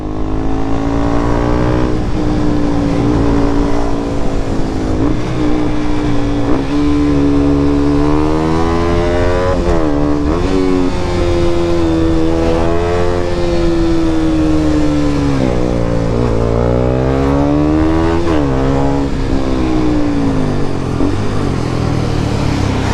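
A modified KTM Duke 200 motorcycle with an aftermarket exhaust revs steadily and loudly up close, its engine pitch climbing and falling in repeated sweeps throughout, with no talking over it.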